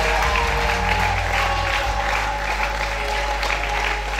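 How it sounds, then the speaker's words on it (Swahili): A church congregation applauds at a New Year's crossover service, dense continuous clapping from many hands lasting throughout, with a low steady hum of amplified sound underneath and no clear speech. "Pigia Yesu makofi yako"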